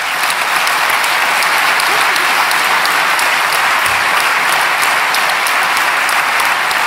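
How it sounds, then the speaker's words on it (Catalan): A rally crowd at an ERC campaign-opening event in Camp de Tarragona, Catalonia, breaks into loud, sustained applause that stays thick and even from start to finish. "també demano un fort aplaudiment per ells"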